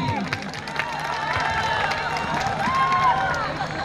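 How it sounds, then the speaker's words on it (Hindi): Applause and cheering from a student audience at a college freshers' party as a poet is welcomed to the stage; a busy crowd wash of clapping and shouts, moderately loud and continuous, with voices mixed in. "एक बार जोरदार तालियां सालस कीजिएगा"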